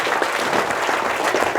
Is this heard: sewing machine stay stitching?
no